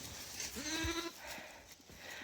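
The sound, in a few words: goats bleating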